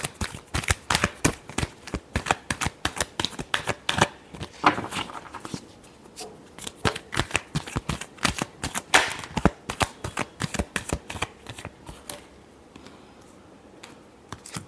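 Tarot cards shuffled close up in a rapid run of crisp riffling snaps and flicks, bursts of slaps coming in uneven clusters with brief pauses between, with no voice over them.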